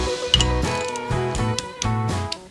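A ratchet wrench clicks in quick bursts as it tightens a screw on a Harley-Davidson Sportster ignition upgrade, with several close, loud ratcheting strokes and brief pauses between them.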